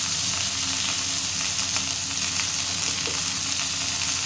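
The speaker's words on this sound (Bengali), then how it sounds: "এবার খানিকক্ষণ আমি একটু নেড়ে নিলাম। একটু যা হালকা ভাজা ভাজা হবে" Fish and drumstick curry base frying with turmeric in a pan, a dense continuous sizzle with faint stirring scrapes, close and steady, no speech.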